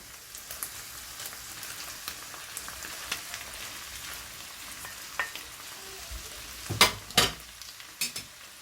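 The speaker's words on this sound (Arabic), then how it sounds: "هلا بنضيف السودي" Chicken liver fries with onions in a pan. A soft, constant crackle runs underneath a few scattered pops, and near the end come louder scrapes and clanks from stirring.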